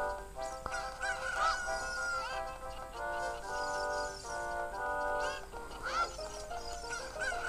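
Cuccos, the chickens of Zelda Ocarina of Time 3D, sound as repeated honking, clucking bird calls in bursts over a quiet game-music bed.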